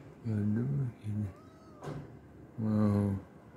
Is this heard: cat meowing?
yes